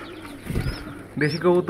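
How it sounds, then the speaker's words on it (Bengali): Local desi pigeons coo nearby in a short, low, throaty burst, followed by a person talking close by. "আর এই যে আমার দেশি কবুতর।"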